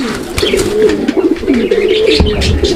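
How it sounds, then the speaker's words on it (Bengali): Male and female pigeons in a farm loft, producing continuous low rolling coos up close, loud and steady throughout, with a few faint chirps in the background. "এটা হচ্ছে নর কবুতর"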